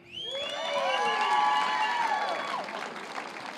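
Comedy club crowd at a stand-up show claps and cheers, with whoops and shouted voices rising over dense applause that swells then slowly fades.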